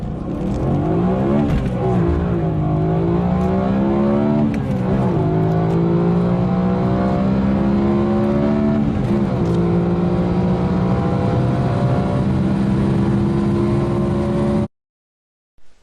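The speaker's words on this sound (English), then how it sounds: "it's hard to think of better engine than the crazy smooth revving V8 that BMW supplied for E90 M3" A BMW E90 M3's naturally aspirated V8 revs loudly and smoothly, pitch climbing through several sweeps before holding a high steady wail, then cutting off abruptly.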